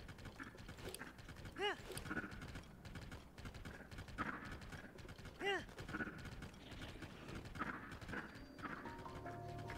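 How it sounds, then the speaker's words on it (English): A horse's hooves clip-clop in the video game Tears of the Kingdom, a quiet steady trotting rhythm with a few brief mechanical clinks and a faint voice in the background. "I say they add more of these horses to the game."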